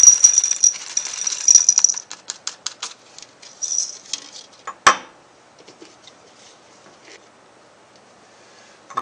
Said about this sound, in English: I add the marble chips to the Florence flask that's going to be generating the gas.